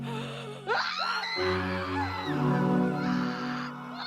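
Distant anguished screams and wailing cries rise and fade in a dark forest scene of a cinematic audiobook, layered over low droning ambient music.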